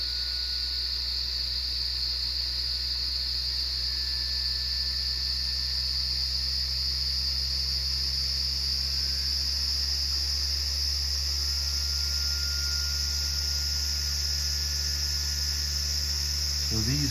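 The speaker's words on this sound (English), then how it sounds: "as I increase the RPM, listen for microtones" A disk spinning at high RPM gives off a steady, piercing high-pitched tone that holds constant throughout, layered over a continuous low hum with no voices.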